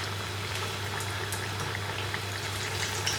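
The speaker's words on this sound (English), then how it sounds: "I started off with a small amount of oil in the pot, not a whole bottle, and it's covering the plantains and they're cooking nicely" Ripe plantain slices fry in a small amount of oil in a pot, giving a constant fine bubbling crackle with scattered tiny pops and a low steady hum beneath, close and even, with no voices.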